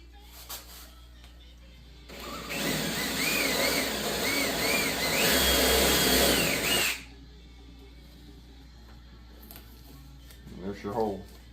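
A drill bores a hole into the fender of a 2023 Jeep Rubicon, a loud, continuous whirring grind lasting about five seconds with wavering pitch, set between quieter stretches where a person talks.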